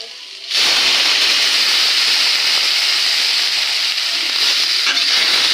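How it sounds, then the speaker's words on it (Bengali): Water poured into a pan of frying potatoes and thankuni greens sets off a sudden, loud, continuous steaming hiss after a brief quiet start, holding strong and even to the end. "আমি আলুর সাথে শাকটা পাঁচ মিনিট ভেজে নিলাম তো এখন একটু জল দিয়ে দেবো"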